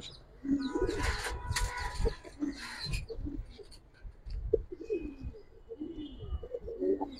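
Giribaz pigeons coo close by in soft, repeated low throaty calls, with faint rustling and scattered chirps around them.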